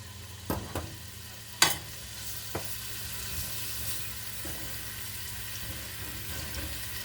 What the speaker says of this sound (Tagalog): at gigisa na natin ang ating bawang